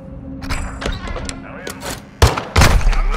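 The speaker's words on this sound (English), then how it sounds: "That gunfire alerted them." Gunfire in Call of Duty Modern Warfare 2 on Xbox Series X, with scattered shots and thuds building to two heavy, loud blasts near the end, under game voices.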